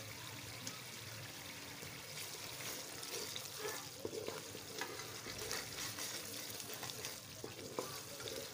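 Whole green chillies frying in hot oil for a pumpkin kofta curry, giving a steady, close sizzle and crackle that runs continuously with small pops and stirring scrapes, no talk over it.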